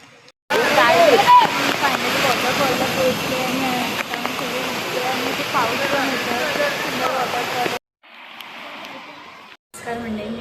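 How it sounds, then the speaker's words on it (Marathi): Irpu waterfall in Coorg roars as a loud, steady broadband rush of falling water for most of the clip, then cuts to a quieter section near the end with no talk. "या मस्त वेदर सोबत आम्ही पोचलो इरपू वॉटरफॉलला."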